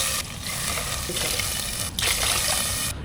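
Water is poured onto rice in a pot while making maqlooba, a close, steady rushing pour with a couple of brief breaks.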